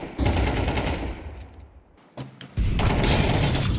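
Automatic gunfire in Counter-Strike 2 comes in two loud, dense bursts separated by a short quiet gap, with a single sharp shot just before the second volley.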